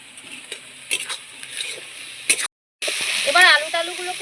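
Crushed fried lentil dumplings stirred into a drumstick flower curry in a pan: light clicks and scrapes of a spoon over a faint sizzle, cut by a brief dropout, with a voice talking over the later part.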